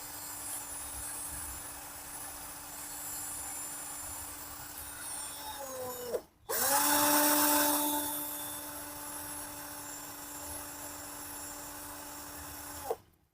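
A modified 12V cordless battery drill set to speed 2, about 1100 RPM, runs with a steady whining motor tone. It briefly cuts out and spins back up louder, then stops abruptly at the end.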